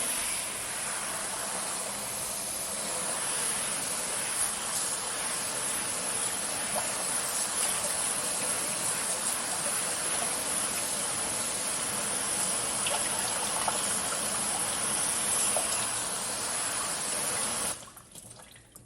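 Water sprays steadily over a car to rinse off Nu Finish ceramic coating, a continuous close hiss of spray that cuts off abruptly near the end.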